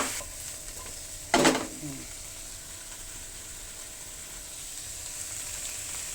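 Carrots and Baguio beans hit a hot pan while pancit canton is being stir-fried, giving a sudden loud hiss that settles into a steady, close sizzle with light stirring.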